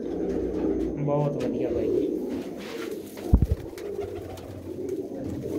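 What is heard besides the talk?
pigeons cooing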